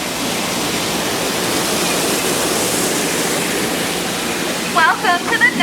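Schweitzer Falls on Disneyland's Jungle Cruise at night roars as a steady, loud wash of falling water close by, with a guide's voice coming in briefly at the end.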